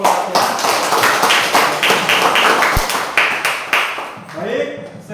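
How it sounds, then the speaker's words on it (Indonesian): Classroom applause for a student group after their presentation: a burst of close, overlapping claps from many pupils, running steadily for several seconds, then thinning out at the end. "tepuk tangan dulu untuk kelompok 1 ya"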